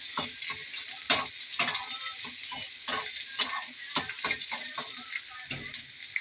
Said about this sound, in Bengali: এরপরে আমি ক্যাপসিকাম কটা দিয়ে দেবো। আবারও আমি নেড়ে দেবো।